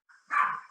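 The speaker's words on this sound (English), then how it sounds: "Dog is behaving." A single short, close dog bark, a quick yip-like bark on its own with no talking.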